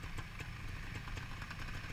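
A trials motorcycle engine idles close by, a low, uneven putter with light mechanical clatter that holds steady for a couple of seconds.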